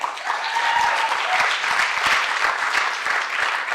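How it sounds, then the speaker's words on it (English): Sustained applause from an audience at a college elevator pitch competition, a steady dense wash of clapping that holds evenly throughout at moderate loudness. "Give them a round of applause."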